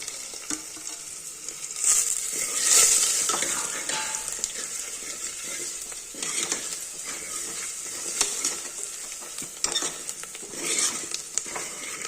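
Cumin, pepper powder and garlic frying in a pan for dal rasam, giving a steady close sizzle with occasional scrapes and clinks of a utensil against the pan.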